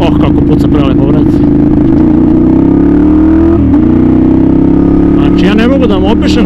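A Ducati Monster 696 motorcycle engine revs loudly up close, its steady throbbing idle rising and falling with throttle blips and crackling pops from the exhaust throughout.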